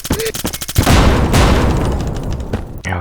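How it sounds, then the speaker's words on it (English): Rapid gunfire bursts lead into a loud, rolling grenade explosion in the shooter game Bullet Force, the boom decaying over a couple of seconds before a final short burst, with a voice calling out over the start. "Grenade out!"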